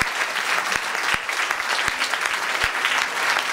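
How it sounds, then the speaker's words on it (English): Festival audience applause at L'Etrange Festival in Paris, a full steady wash of clapping from a large crowd with a few louder near claps punctuating it, continuous and fairly loud throughout. "The applause is amazing."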